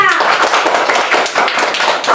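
Schoolchildren clapping together in a classroom, a loud, dense burst of rapid claps lasting about two seconds.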